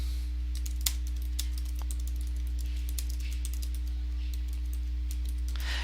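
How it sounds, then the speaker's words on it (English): Someone types answer choices for a Google Forms quiz on a computer keyboard, with a run of irregular, close clicking keystrokes over a steady low hum. "I can go ahead and type my first answer choice."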